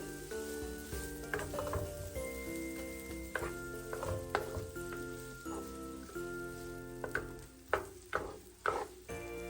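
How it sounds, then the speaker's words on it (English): Chopped onions frying in oil and melted butter over medium-low heat, a steady crackling sizzle with spatula scrapes and clinks that become sharper and more frequent toward the end, while background music plays. "Next, I'll add some chopped onions and I'll let this fry for about a minute on medium"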